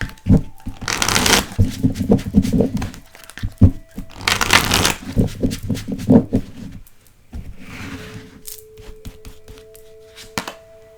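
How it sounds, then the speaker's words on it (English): Archangel Power Tarot cards by Bradley Valentine are shuffled in two loud riffling bursts, followed by softer card handling and rustling close by. "We're going to go ahead and use the Archangel Power Tarot cards by Bradley Valentine."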